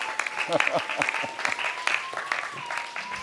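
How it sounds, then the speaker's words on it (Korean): Audience applause in a lecture hall, a scattered patter of claps running throughout while a voice speaks over it at moderate level. "예, 다시 한 번 더 큰 박수로."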